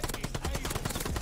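An MP40 submachine gun fires in Call of Duty Vanguard: a rapid, loud, continuous burst of closely spaced shots, heard alone and up close.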